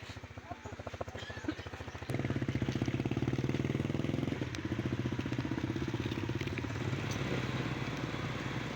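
Three motorcycle engines idle and rev nearby, a steady rumbling clatter that grows louder partway through, with voices faintly in the background.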